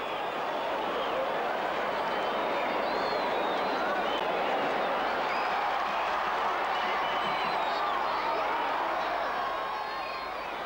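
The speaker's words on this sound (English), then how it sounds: "A linesman's call against hero Echeverri provokes a violent reaction from the fans." A football stadium crowd at a 1994 World Cup qualifier roars in sustained, loud, dense uproar at a linesman's call, a continuous wash of shouting and jeering from many voices with no pauses.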